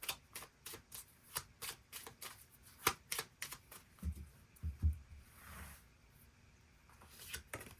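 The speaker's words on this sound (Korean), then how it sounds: "그럼 7번 분들 추가 카드로 3월 첫째 주부터 마지막 주까지 어떤 한 주 한 주를 보내게 될지 추가 카드 뽑아보도록 하겠습니다" Tarot cards being shuffled and drawn during a March fortune reading: a quick run of crisp, papery riffles and soft slaps repeating closely, fairly quiet and up close, with no voice over them.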